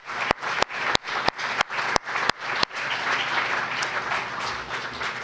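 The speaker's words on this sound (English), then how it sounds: "Please join me in giving them a round of applause." A run of sharp, evenly spaced claps at the start, then full audience applause for a university communications team at a political event, a steady, fairly loud wash of clapping lasting several seconds.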